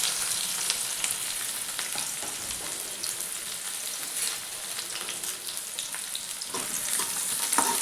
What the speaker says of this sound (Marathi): कांद्याला चांगलं भाजून घेऊ.